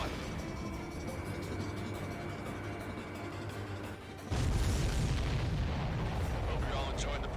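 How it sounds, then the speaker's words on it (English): A missile explodes on a supply ship in the combat flight game Ace Combat 7: a steady engine-like rumble gives way at about four seconds to a sudden loud, broad blast that keeps roaring and crackling to the end. "Missile hit the supply ship dead on."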